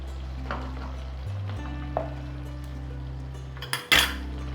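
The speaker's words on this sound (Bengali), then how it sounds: "এবারে একবার আমি নেড়ে দিলাম।" A spoon stirs potol korma, a Bengali pointed-gourd curry finished with ghee, in a pan: a few sparse metallic clinks and scrapes over a steady low kitchen hum, ending with a sharper clatter.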